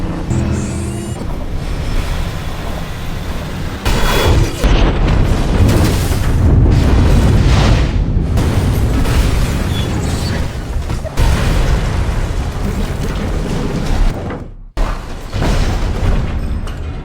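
Loud, booming bazooka explosions from the Joker firing on police cars, with heavy blasts and rumbling bursts over roaring vehicle noise and a sudden sharp dropout near the end.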